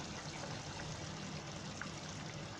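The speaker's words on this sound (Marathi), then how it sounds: "आता मी थोडं पाणी ओतते" Water pours into a pan of cashew masala curry, a soft, steady trickle heard faintly and close through low background noise, with no talking.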